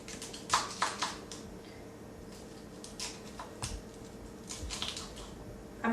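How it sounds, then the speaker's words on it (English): A kitchen knife chops asparagus into short slices on a board, producing quiet, crisp taps in small irregular clusters with brief pauses between them. "I'm going to cut my asparagus into about 2-inch"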